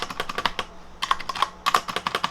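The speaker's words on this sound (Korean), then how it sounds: "타건 소리는 이렇고요." Rapid typing on a COX CK01 mechanical keyboard with red switches and ABS keycaps, crisp key clacks in quick bursts with a short pause partway through, close to the microphone.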